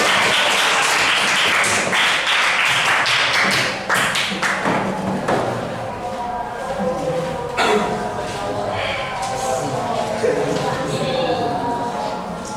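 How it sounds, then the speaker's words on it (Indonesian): Children clapping hands for a group performance at a Christian values class presentation, a loud burst of claps at the start that thins into scattered taps and thuds, with voices murmuring underneath. "Ayo tepuk tangan"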